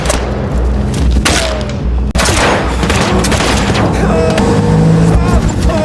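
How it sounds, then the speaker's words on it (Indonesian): Bursts of heavy gunfire strike a car from behind with thudding impacts rolling continuously over a loud, dense background with engine-like rumble, sustained and close throughout. "tiba-tiba mobilnya ditembaki dari arah belakang oleh Kikimora"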